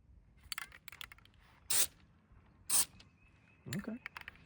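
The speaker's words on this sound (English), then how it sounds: "Time to spray." Two short, sharp hisses of an aerosol can spraying on a Fox Body Mustang, about a second apart, against a quiet background with faint rustling.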